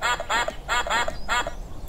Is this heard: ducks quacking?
yes